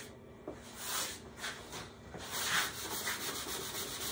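A cut-down putty knife scrapes wet glue off olive burl wood in repeated close rasping strokes, a rhythmic rubbing with no talk.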